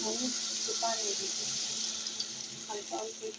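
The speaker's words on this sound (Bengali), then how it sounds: "একটু পানি দিব," A little water is poured into a cooking pan of onions, a soft running, splashing wash heard close, with a voice murmuring faintly underneath.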